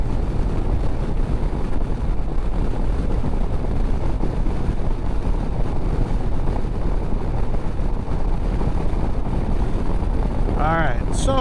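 A motorcycle, either an Indian Chieftain 112 or a Harley Street Glide bagger, rides at speed under steady, loud wind buffeting and engine roar that stays constant throughout, with a short whistling squeal near the end.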